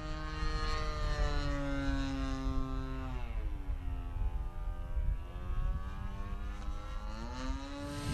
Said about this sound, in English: Is that a real plane landing behind me? No, that's actually a turbine jet.